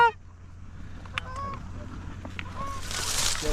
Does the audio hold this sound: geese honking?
yes